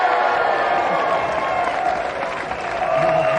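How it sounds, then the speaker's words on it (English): A studio audience on a 1990s children's video game quiz show applauds the winner, a dense, continuous crowd clapping with some cheering and voices mixed in, loud and steady throughout. "Another round of applause for our winner and a Gamesmaster Christmas prize"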